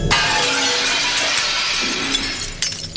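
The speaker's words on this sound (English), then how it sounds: "the control room window shattered, obliterating the images of space I thought I'd seen." A control room glass window shatters in a loud, sustained burst of breaking glass, bright crashing and crackling debris filling the whole moment, with a final clink of falling shards near the end.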